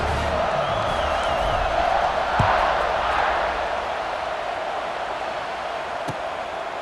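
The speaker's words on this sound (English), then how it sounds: "this crowd is buzzing after that last score" A stadium crowd in the College Football 26 video game buzzes after a score, a steady, moderately loud roar of many voices with a brief whistle-like tone near the start.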